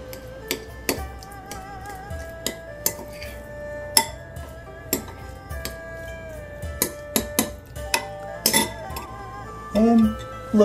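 A spoon smashing and mixing spicy tuna in a bowl, repeated sharp clinks and scrapes of metal against the bowl in an irregular rhythm, close and distinct, with a soft voice near the end.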